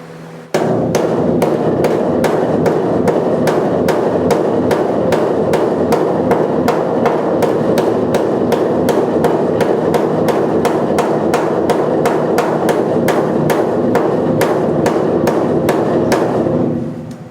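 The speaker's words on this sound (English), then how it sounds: "I'll start kind of hammering up here and then bring my hammer strokes down to try to roll it in" Steady, rapid hammer blows on a sheet metal cab corner rust patch of an '86 Chevy C-10, ringing evenly and loudly for a long stretch before stopping.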